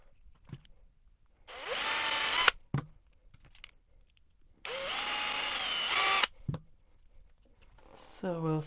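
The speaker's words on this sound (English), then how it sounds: "and I'll drill them straight away" Power drill boring holes into a 3D printed plastic crankbait lure, two sustained whining bursts of a couple of seconds each separated by pauses, with handling clicks between and a brief third start at the end.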